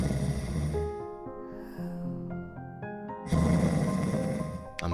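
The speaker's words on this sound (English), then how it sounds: "I'm surprised I don't hear this snoring on my floor" The Minotaur, a video game monster, snores: a deep, gravelly snore, then a softer breathy stretch, then a louder rasping snore swelling back in, close and without any talk.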